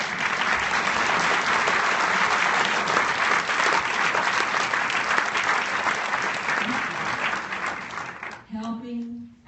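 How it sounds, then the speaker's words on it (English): Audience at an Atlanta History Center book lecture breaks into loud, sustained applause, dense clapping heard close for about eight seconds before it fades and a voice starts speaking. "as your applause told me"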